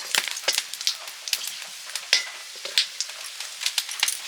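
Whole five-spice seeds and dried red chillies crackle and sizzle in hot oil, a busy stream of sharp pops and spits of varying strength over a steady frying hiss, with no talk.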